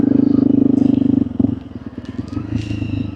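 A Honda CRF 300L motorcycle with about 6,500 km on it, engine thrumming steadily and close, with a strong pulsing rhythm that breaks up after a second or so into uneven revving and clatter, with a voice speaking briefly.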